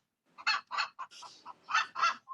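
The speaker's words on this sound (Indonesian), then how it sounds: "Itu bunyi bebek ya?" Ducks quacking nearby in Bandung, a run of about seven loud, raspy calls in quick bursts with short gaps, with no talk over them.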